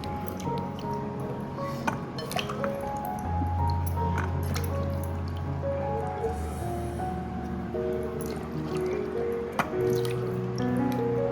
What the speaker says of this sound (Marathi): असे स्वच्छ सोडून धुवून घेऊ पहिले